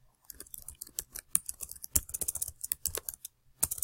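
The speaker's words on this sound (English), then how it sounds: "So I'm going to type that in there." Fingers typing on a computer keyboard in a quiet room, with a rapid, uneven run of crisp key clicks and brief pauses between bursts.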